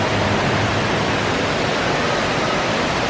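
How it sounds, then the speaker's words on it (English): Indoor waterfall splashing steadily in a large glass-roofed hotel atrium filled with palm trees and ornamental plants at the Gaylord Opryland Resort in Nashville, a loud continuous broadband rush with no talk. "And we got some waterfall action"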